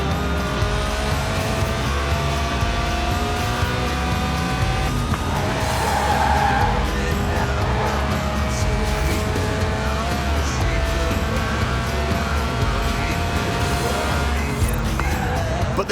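Lotus Elise Sport 190, a stripped-out mid-engined rear-wheel-drive roadster tuned for track days, driving in Forza Horizon 4 with a steady, loud engine drone and occasional tire squeal throughout, no talking.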